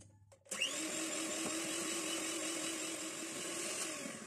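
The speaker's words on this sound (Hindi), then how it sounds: "तीसरा अंडा डालेंगे और इसको मजीद बीट कर लेंगे" An electric beater whirs in a steady, close, loud drone as it whips eggs with oil and sugar for a carrot and walnut cake batter, starting abruptly after a short quiet moment.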